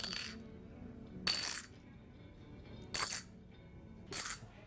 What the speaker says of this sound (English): Drop the coins into the glass so that everyone can hear exactly how many coins.